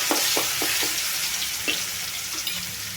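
Asafoetida and chili-garlic paste hitting hot oil in a pan, a loud continuous sizzle with several crackling pops early on and no voices.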